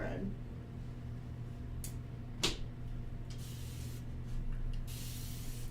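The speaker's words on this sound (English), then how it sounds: "Spraying my little bag with the mister." A handheld mister sprays water onto a paint bag in a few short, hissing bursts, one sharp and loud, the others longer and softer, over a steady low room hum.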